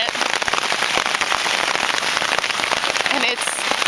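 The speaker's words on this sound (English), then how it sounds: "And it's hailing out." Hail patters densely and loudly on a camping tent in Sequoia National Park, a continuous close rattle of tiny impacts with no pause.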